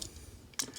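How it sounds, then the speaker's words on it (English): The hip ratchet joints of an Iron Factory IF-EX 24 Cannon Chariot toy robot figure give a couple of quick, sharp plastic clicks close up and fairly quietly, against near silence. "You hear good solid clicking hip ratchets"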